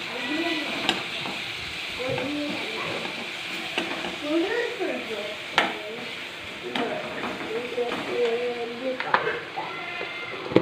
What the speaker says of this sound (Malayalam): മഞ്ഞപ്പൊടി ഇട്ട് നന്നാക്കി ഇളക്കട്ടോ